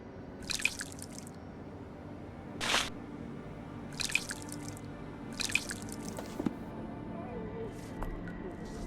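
Water drips in a garden in a Sherlock Holmes mystery game: several distinct, wet splashy drips fall at irregular intervals over a quiet low ambient background.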